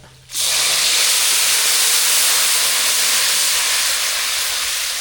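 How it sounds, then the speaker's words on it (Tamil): Tamarind liquid mixed with turmeric and salt is poured into a hot tempering for rasam and sizzles at once, a loud, steady, broad hiss that holds for about five seconds and then cuts off. "ரசத்தில் புளி மஞ்சத்தூள் உப்பு எல்லாம் சேர்த்து ஒன்றா கரைச்சி வச்சுருக்கோம் அதை சேர்த்துக்கலாம் தாளிப்பு கூட"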